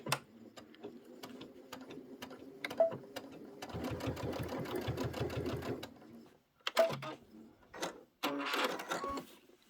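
A sewing machine stitches a crossbody bag in quick mechanical bursts, a long steady run broken by pauses and short restarts, close and clear with no talking.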